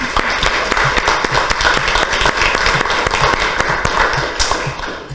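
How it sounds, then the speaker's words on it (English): A seated audience at a city council meeting gives a round of applause for a youth council member, steady close clapping that tapers off near the end. "I'd like to give you a round of applause."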